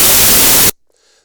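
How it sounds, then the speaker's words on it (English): A white noise generator plugin in the Reaper audio editor gives a loud, full hiss for under a second before it cuts off abruptly to near silence. "We got a white noise generator."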